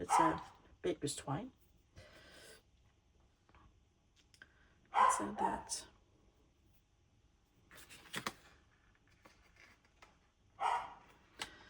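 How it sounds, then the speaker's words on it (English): A few separate dog barks from one of several household dogs sound indoors at moderate distance, spaced several seconds apart among a person's talk. "If you hear a dog barking, it is just one of my dogs"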